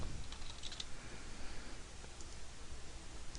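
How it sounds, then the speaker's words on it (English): Someone types on a computer keyboard, entering a command with quiet, close, rapid light key clicks over faint background hiss. "specify, and type in the command I want it to initiate"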